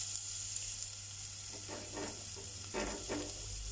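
Mustard seeds fry in hot oil in a pan, giving a soft continuous sizzle with a few brief crackling bursts toward the end, close but quiet, with a low steady hum beneath and no talking.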